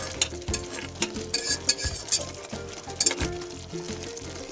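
Onion and tomato puree roasting in oil for paneer tikka masala, a close, busy sizzle with rhythmic spoon scraping and stirring strokes against the pan, no voices.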